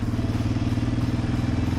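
A Yamaha Raptor 700R ATV engine idles close by with a rough, steady throb, loud and continuous throughout.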